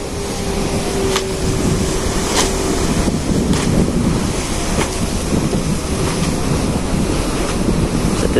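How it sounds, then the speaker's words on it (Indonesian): Sea waves wash against the hull of the KM Kirana VII passenger ship on the Surabaya–Lembar crossing: a steady, loud broadband surge with wind buffeting the microphone and no talking. "Ada ombak itu ya."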